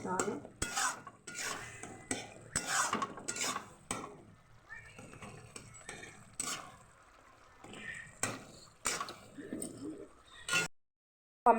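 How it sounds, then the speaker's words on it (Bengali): A utensil scrapes and clatters against a pan while food cooks with sugar, giving irregular close stirring clanks and knocks with brief pauses and faint sizzling underneath. "এই যে দেখো এই সুগার দিয়ে রান্না হচ্ছে।"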